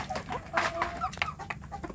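Kampung chickens being raised as future breeding hens cluck and chirp in a continuous, moderately near chorus, with short overlapping calls throughout and no talk.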